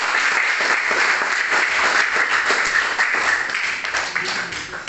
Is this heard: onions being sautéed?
no